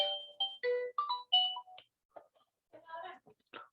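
A phone ringtone chirps in short melodic tonal bursts during a math class on sets, repeating in an uneven pattern at moderate loudness with no talking over it.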